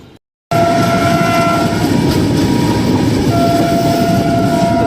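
Vande Sadharan Express on its inaugural run, approaching with a loud, steady rumble of wheels and coaches and a sustained horn tone over it, filling the clip after a brief silent start.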